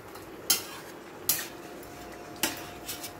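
Utensil knocks and scrapes in a pot as roasted ground spices are stirred into curry, three sharp clinks spread over a few seconds with a low steady background between them.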